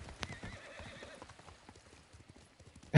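Horse hooves clop unevenly in Ghost of Tsushima, with a whinny early on and a louder burst at the very end, heard close with no clear talking.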